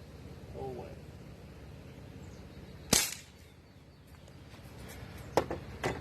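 An Umarex Ruger 10/22 air rifle fires at an apple outdoors, one sharp crack standing out between stretches of quiet talk, followed later by two smaller snapping reports.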